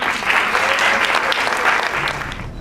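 A conference audience at a food talk claps warmly to welcome two speakers, dense, steady applause from a sizable crowd, close and loud, fading slightly at the end.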